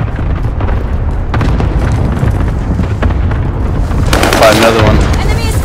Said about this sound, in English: Enemy is firing on me.